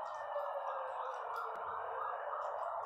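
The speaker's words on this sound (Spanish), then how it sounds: "va pasando justo la ambulancia, me parece" An ambulance siren passes at a distance, a steady sustained tone that holds without pause for the whole stretch and is heard alone with no talking.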